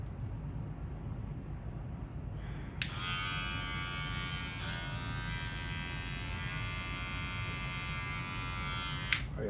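An electric hair clipper with a floating lever and gold titanium D2 blade switches on after a quiet start, then buzzes steadily and strongly at close range before clicking off near the end.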